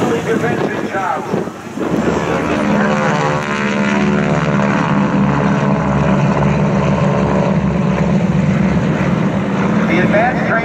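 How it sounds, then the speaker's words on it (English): Propeller trainer aircraft taking off during an air show, engine drone rising loud and steady with wind buffeting the microphone and some speech mixed in. "The advanced trainers taking off now"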